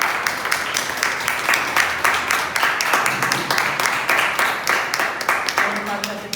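An audience at a Toastmasters club meeting applauds a Toastmaster with steady, fairly loud clapping that continues for several seconds with a pulsing rhythm, and a voice comes in at the end.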